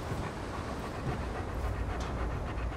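A dog in the video game Remnant 2 pants rapidly and steadily, with breathy continuous huffing over dense, loud game ambience throughout.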